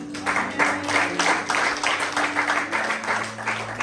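A church congregation bursts into steady, sustained applause, a dense crowd of clapping hands filling the room at close range for a few seconds over a low hum.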